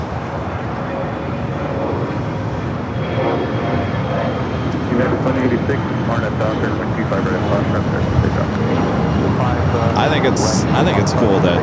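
SkyTeam airliner passing at LAX airport, a steady, loud jet engine roar that swells gradually and holds, with people talking over it and a brief high hiss near the end.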